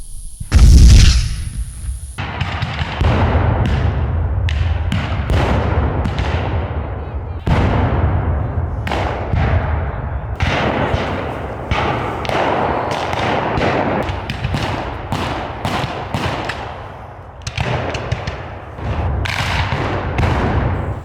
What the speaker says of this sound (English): Those big guns sure are powerful.